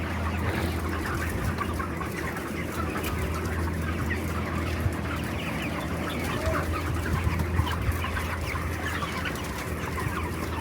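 A dense crowd of 26-day-old broiler chickens clucks and chatters continuously inside an enclosed, climate-controlled poultry shed, with a steady mechanical hum underneath.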